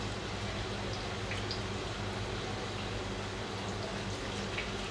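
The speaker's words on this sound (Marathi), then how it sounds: "आपण गोल गोल करून मंचुरियन्स आपले तयार करून घेतेच आहे मी तेलामध्ये तळायला" Homemade manchurian balls frying in hot oil give a steady, dense sizzle and bubbling that stays even and close throughout, with no one speaking.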